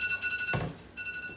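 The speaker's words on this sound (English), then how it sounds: "Don't mind that, it's just an alarm" An electronic alarm goes off in a home kitchen as a steady, high, tonal ring. It is briefly broken by a dull thud, then resumes alone, fairly faint, with no speech.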